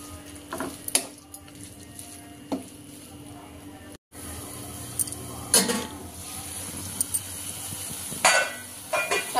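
Chopped tomatoes and fenugreek leaves cooking down in a pan for methi egg curry, with a soft sizzle broken by scattered clinks and scrapes of a spoon against the pan, and a brief dropout midway.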